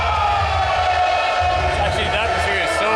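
A capacity crowd of about 3,000 roars continuously at a futnet world championship triples final in Brno, while a commentator talks loudly over the constant din.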